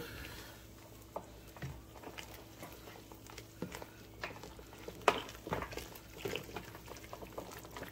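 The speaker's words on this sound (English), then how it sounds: "let me stir everything up" Birria beef bubbling in a pot of consomme as it is stirred, with wet sloshing, soft scraping and irregular clinks of a spoon against the pot over a low simmer, close and fairly quiet with no talk.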